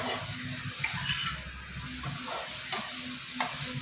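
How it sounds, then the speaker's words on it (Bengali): Brinjal pieces frying gently in oil over a low flame give a soft, steady sizzle, with light scraping stirs and a few clicks of the spatula. "একটু সিমে দিয়ে হালকা হালকা করে নাড়াচ্ছি"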